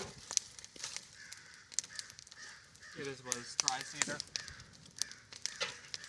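Birds calling in the distance, harsh caw-like cries scattered among the crackling and rustling of a charcoal-making fire, while a person talks nearby.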